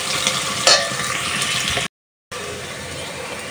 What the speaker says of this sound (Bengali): পেঁয়াজ আর আদা একটু হালকা একটু ভেজে নিতেছি